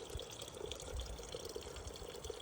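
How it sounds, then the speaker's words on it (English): A small bubbling brook beside a hiking trail near Redfish Lake, Idaho, flows in a steady, soft, continuous trickle and babble, fairly faint and even throughout, with no voices. "On our hike, I heard water. Little bubbling brook."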